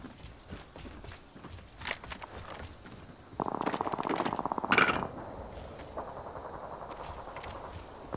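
Bolt SMG firing in Apex Legends, a rapid automatic burst with a steady fast rhythm rising over faint game ambience and footsteps, lasting a couple of seconds before a softer stretch of continued fire.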